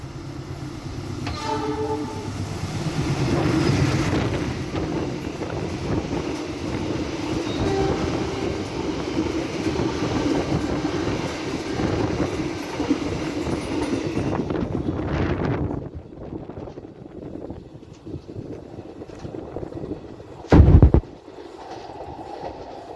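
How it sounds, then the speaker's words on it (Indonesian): The KA Pangandaran train bound for Jakarta Gambir passing on track 2 at Banjar station in West Java, a loud rumbling roar with rhythmic wheel clatter that fades out, followed by a short horn blast near the end. "teman-teman akan melintas di jalur 2 KA Pangandaran, tujuan stasiun Jakarta Gambir"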